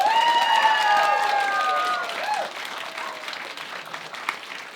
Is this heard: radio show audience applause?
yes